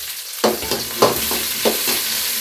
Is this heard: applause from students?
no